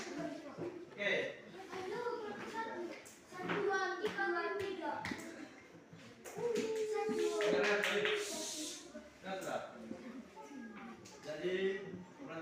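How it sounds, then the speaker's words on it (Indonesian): A classroom of pupils claps for a group after a lesson activity, with scattered hand claps mixed among children's voices and chatter throughout. "Tepuk tangan kelompok 3."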